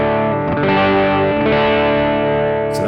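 Electric guitar through a Kinky Boost effect from HX effects into a Hotone British Invasion amp pedal, AC-style tone, playing a sustained, driven chord with a rich, slightly distorted ring that holds steady throughout, loud and alone.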